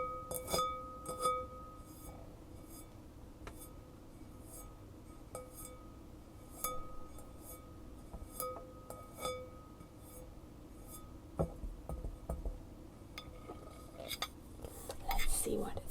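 A glass Pyrex kitchen container is handled and tapped, giving scattered sharp clinks and knocks at close range against a quiet background, with no talking.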